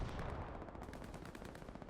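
In a World War II online match, tank and small-arms fire rattles in a faint, dense stream of rapid shots, distant and continuous through the short clip.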